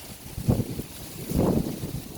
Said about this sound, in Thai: โอ้ยลมแรงมากนะคะ